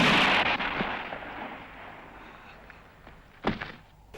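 A gunshot in a western film scene: a loud blast at the start that decays into a long reverberant tail, then a second sharp crack near the end, with no voices.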